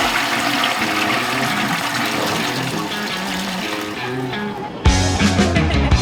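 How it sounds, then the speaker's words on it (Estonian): A toilet in Hong Kong flushes with seawater, a loud continuous rush of water that surges abruptly near the end into a stronger gurgling draining swirl. "Mereveega tualetid"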